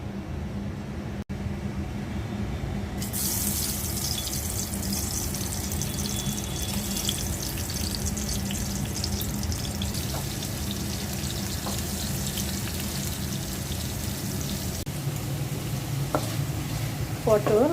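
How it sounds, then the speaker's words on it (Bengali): Kakrol (spiny gourd) frying in oil in a frying pan makes a steady, dense sizzle that keeps up throughout, with a few light utensil clinks and clatters near the end. "ফ্রাই প্যানে তেল দিয়ে দিচ্ছি ভাজার জন্য"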